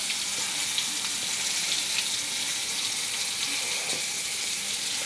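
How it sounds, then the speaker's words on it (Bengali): Brinjal frying in hot oil in a home kitchen, a steady, even sizzle with a bright crackling hiss throughout, close and moderately loud. "তো বেগুনটা ভাজা হয়ে গেছে,"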